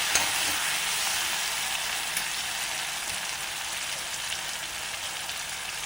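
Chopped tomato fries in a pan for a dried fish curry, giving a steady, soft hiss of sizzling throughout, fairly faint and even, with no talking.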